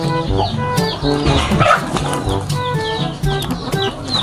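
A rooster clucks and calls over a busy, layered background of other sounds, fairly close and steady throughout.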